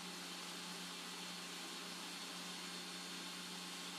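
A Ninja Creami ice cream maker runs its respin program, giving a loud, steady, jet-like whir with a constant mid-pitched motor hum and broad hiss, unbroken throughout.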